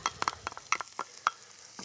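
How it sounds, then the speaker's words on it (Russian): Chopped onion sizzles and is stirred in a hot pan while cabbage rolls in batter are being cooked, with close, repeated scraping strokes over a steady frying hiss. "Выкладываю лучок."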